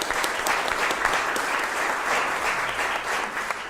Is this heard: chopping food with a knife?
no